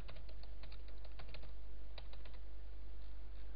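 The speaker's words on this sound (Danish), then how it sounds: "Skriver lidt tekst" Fingers tap text on a computer keyboard in quick irregular clicks, a close, steady run of keystrokes over a low constant hum, with no voices.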